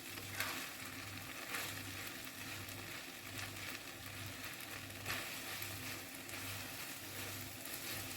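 Ramen noodles frying softly in a pan, a low continuous sizzle with faint stirring scrapes and a pulsing hum underneath, quiet and close with no talking.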